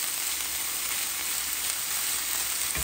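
Gochujang-coated pork belly with green onions cooks in a pan, giving a constant loud, close sizzle with no let-up and no talking.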